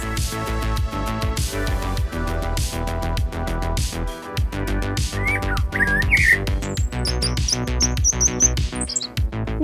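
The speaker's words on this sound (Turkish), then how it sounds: "Tuvaldeki fırça izlerine dokununca o kuşların seslerini de duyabiliriz." Chirping bird calls and whistles, brief and scattered, sit over a dense, rhythmic musical backdrop.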